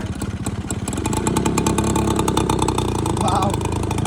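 Bajaj M80 motorcycle engine pulling away in first gear, a loud close rhythmic putter that swells and steadies, with a person talking over it.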